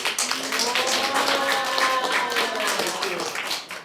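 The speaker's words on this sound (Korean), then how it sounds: "다시 한번 박수 한번 주고" An audience claps steadily throughout, a dense patter of many hands, with a voice audible faintly through the applause.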